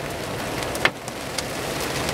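Marble-size hail drumming steadily on a car during a storm, a dense loud patter with a few harder single impacts standing out, heard from inside the vehicle.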